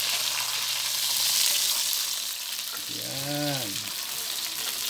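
Fish sizzles in a pan over charcoal on a makeshift grill made from an old pot lid, a steady close crackling hiss, with a brief rising-and-falling voice-like tone partway through.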